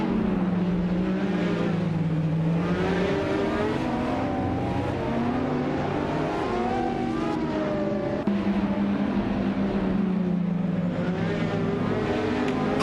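Hypercars, including a 2020 Porsche 935, launch from the start of a race at Zandvoort in a racing video game. Steady, overlapping engine drones rise and fall in pitch as the pack accelerates together.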